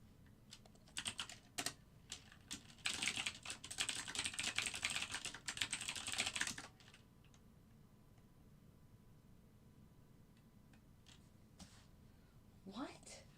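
Computer keyboard typing in quick clattering bursts of keystrokes, dense for a few seconds then thinning to scattered clicks, fairly close and quiet with a voice briefly heard.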